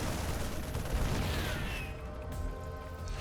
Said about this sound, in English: Missile goes up.